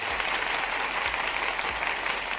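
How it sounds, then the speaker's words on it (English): A canned applause sound effect inside a live-streaming studio plays as a steady wash of clapping from a crowd, even and moderately loud throughout. "Yes, the clapping."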